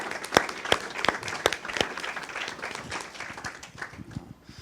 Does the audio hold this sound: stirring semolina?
no